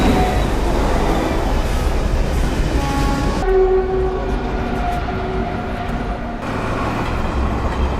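A train passes along a railway track near a house in a film scene, a steady loud rumble with a horn-like tonal note sounding midway before the noise drops away.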